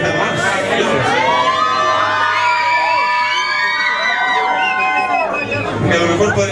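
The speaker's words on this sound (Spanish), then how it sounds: "Yo no sé de qué lado grita más." A crowd of women at a nighttime karaoke show shouts, whoops and cheers loudly and continuously, with high excited voices layered over a dense babble that fills the room.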